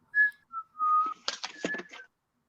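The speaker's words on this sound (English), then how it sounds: "I'm so impressed with my whistling right now." A person whistles a short, clear melody of sustained and sliding notes, alone and close, followed by a brief breathy burst before it ends.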